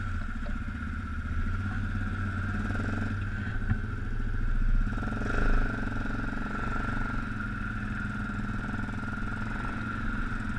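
A Yamaha Grizzly 660 ATV rides frozen muddy trails with a steady, close engine drone and low rumble, brief rises in throttle and faint clattering throughout, with no voices present.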